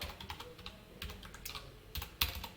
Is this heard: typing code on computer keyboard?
yes